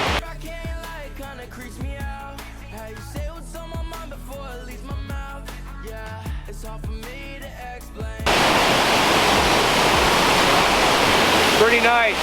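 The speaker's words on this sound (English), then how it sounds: "Mary Vine Creek Waterfall." Mary Vine Creek Waterfall near Peden Lake roars as a loud, steady, close broadband rush over the final four seconds, after a long stretch of rhythmic music.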